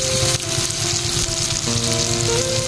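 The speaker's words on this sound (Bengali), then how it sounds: "আবারও তেল দিয়ে গরম করে নিয়েছি এই সয়াবিনগুলো ভেজে নেব" Soybean chunks frying in hot oil, a loud, close, continuous sizzle with a constant hiss and fine crackle, heard alone without talk.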